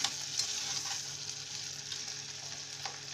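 Potatoes cook in butter in a pan with a steady close sizzle and faint crackles, with occasional soft stirring clicks and no talk.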